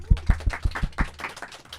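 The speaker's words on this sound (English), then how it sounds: "So now, give it applause now." Applause in a radio studio from a small group: about six evenly spaced, close claps in a steady rhythm that quickly fade out.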